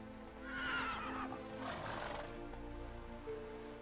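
Roach, a horse in the video game The Witcher 3, lets out a whinny that rises and then trails off, followed by a softer snort, quiet in the mix with light rain-like patter.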